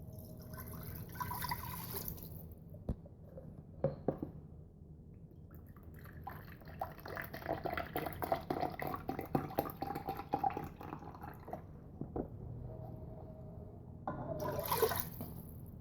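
Broth pours into a Ninja Foodi pot, a close liquid splashing and trickling that swells and fades in a few bursts with a brief knock between them.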